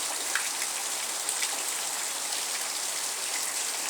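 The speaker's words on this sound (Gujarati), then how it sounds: "અતિ ભારે મસ્ત પવન વગરનો વરસાદ છે." Heavy rain pours steadily without wind in a village in Gujarat, a dense, even hiss of drops on surfaces with no voices.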